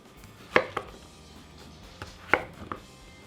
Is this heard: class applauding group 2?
no